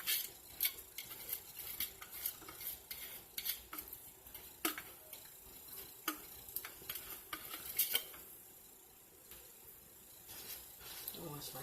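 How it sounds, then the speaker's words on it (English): Onion goes into a hot pan for chilli cornbread and sizzles softly, broken by repeated sharp clinks and scrapes of a utensil stirring against the pan, close and fairly quiet. "It has started to sizzle, so we're going to go ahead and put the onion in."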